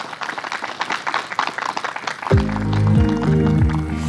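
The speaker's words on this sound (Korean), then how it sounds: "우리 문경민 작가에게 다시 한번 따뜻한 위로의 박수 보내주시면 감사하겠습니다" Audience at a literary award ceremony applauding: dense, steady crowd clapping fills the hall, then a swell of music enters partway through and carries on over the fading applause.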